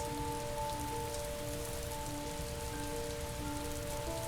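Steady rain pours in the video game Heavy Rain, a dense continuous hiss of falling water with tonal game ambience humming beneath, holding at an even level throughout with no voices.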